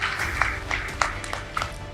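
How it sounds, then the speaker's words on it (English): Conference audience applauding at an African Takaful industry event, a steady wash of clapping with a few sharper claps standing out, moderately loud and continuous for about two seconds with no talking. "I think they need another round of applause"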